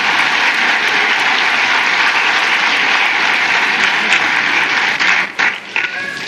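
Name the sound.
audience applause for the guests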